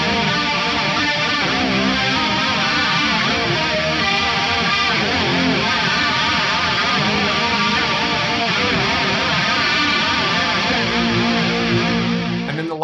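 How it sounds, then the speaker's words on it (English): Electric guitar runs through an AM4 amp modeler with a Japan CE2 chorus set to a higher rate and lower depth for a rotary-style sound, the distorted tone swirling and warbling in continuous loud chords with no talking. "I'm using the Japan CE2, higher rate, lower depth on there for a kind of rotary style sound."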